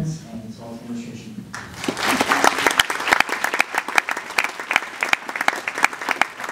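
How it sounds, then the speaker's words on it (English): Audience applause after a high school wind ensemble's December concert, beginning about a second and a half in as a dense, steady wash of many hands clapping close by, with a voice heard faintly in the opening moments. "So please, a round of applause for our parents and as well as administration."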